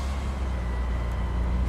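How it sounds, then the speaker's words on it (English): Truck air brakes from the Big Ambitions video game, a steady broadband hiss over a low idling engine rumble, close and continuous with no talk. "Listen to those air brakes."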